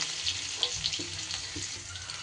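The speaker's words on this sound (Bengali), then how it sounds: "সামান্য একটু হিং এবার দিয়ে দেব দু তিনটে খুব ছোট করে কেটে নিয়েছিলাম কাঁচা লঙ্কা" Asafoetida and finely chopped green chilies frying in hot oil with cumin for an Indian spiced potato dish, giving a steady close sizzle with faint clinks and stirring, no talk.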